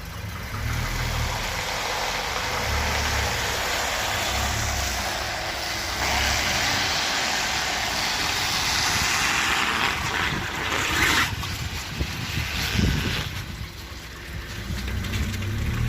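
Mercedes-Benz 300 D W189 Adenauer diesel car engine running while driving, a steady low rumble with road and wind noise throughout, near and fairly loud, no talking.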